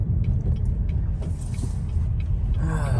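A Chevy Impala with a cracked windshield is driving, its engine giving a steady low rumble with road noise, fairly quiet and smooth throughout.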